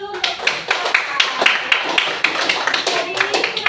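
Classroom applause with many hands clapping at an uneven, busy rhythm, loud and close. Voices talk over and between the claps.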